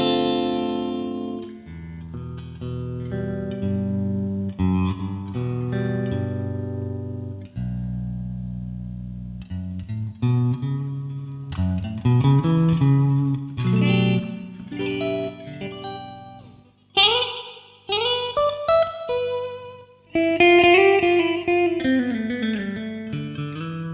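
Schecter Banshee Elite 7 seven-string electric guitar on the middle pickup position with both humbuckers, a bright, high-output amp tone with light reverb, played as a continuous phrase of chords and single notes with no talking.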